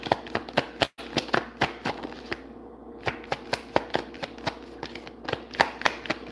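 Playing cards are shuffled repeatedly in quick riffled bursts, sharp crisp clicks in a steady rhythm with a brief pause, close and clear with no talking.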